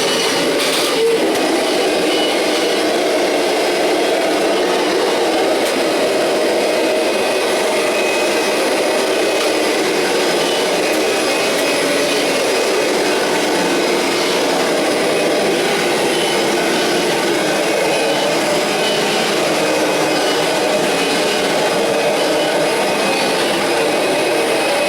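A Kirby Generation 5 vacuum cleaner runs on carpet with the beater bar off, producing a loud, close, unbroken motor roar that stays constant for the full stretch.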